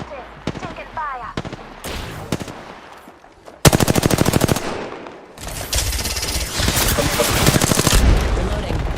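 Video game combat in a squad shooter with sustained automatic gunfire: rapid machine-gun bursts and staccato rifle volleys, loud and close, with brief pauses between strings of shots and a game voice occasionally heard underneath.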